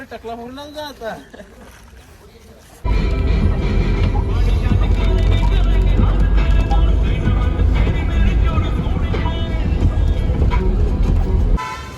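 Taxi ride on a road toward Gangtok, Sikkim, with a continuous loud engine and road rumble and repeated car horn toots, after a few seconds of talking at the start; voices continue under the traffic noise.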